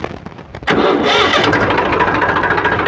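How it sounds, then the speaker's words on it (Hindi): An Eicher 380 tractor engine cranks briefly, then catches and roars into a loud, steady rumbling idle. "तो सबसे पहले हम ट्रैक्टर को स्टार्ट कर लेंगे।"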